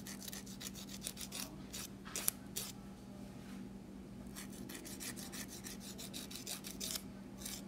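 A nail file rubs back and forth over fingernails in steady, quick, close strokes of dry rasping, with a short pause midway before the filing picks up again.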